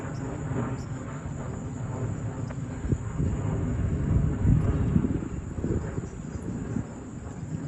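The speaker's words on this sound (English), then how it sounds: "you hear the planes going by" Steady low roar of an airplane passing overhead near the waterfront in Saddle Rock, Long Island, New York, swelling slightly midway and fading, with faint wind and insect buzz in the background.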